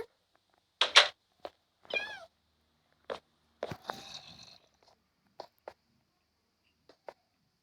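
A cat meows several times in short, separate calls with quiet pauses between them, close by and fairly soft in an otherwise silent room.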